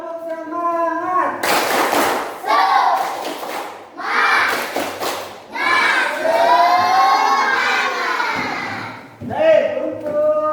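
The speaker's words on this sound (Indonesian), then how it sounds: "Oke, tepuk semangat." Students in a classroom perform a 'tepuk semangat' clap, with loud young voices chanting and shouting in bursts and sharp rhythmic claps mixed in, close and lively.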